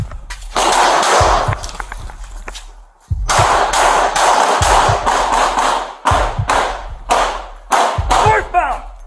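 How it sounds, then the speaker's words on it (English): Gunfire from a suspect shooting out of a northeast window at police, a series of sharp close cracks in several bursts over dense background noise and shouting voices. "He's shooting out the window at us."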